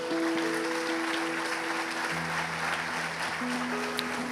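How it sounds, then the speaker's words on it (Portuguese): Congregation applauding inside a church: a sustained wash of clapping from many hands, with steady held keyboard or organ tones underneath. "você dê uma linda salva de palmas"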